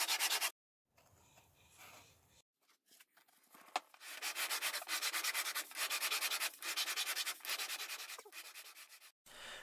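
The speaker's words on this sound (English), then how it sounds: "Chalk mark the edges, sand them down, rinse and repeat." The side edges of a soprano ukulele are hand sanded on a sanding dish, close and crisp, with rapid rhythmic back-and-forth strokes in several bursts separated by short pauses.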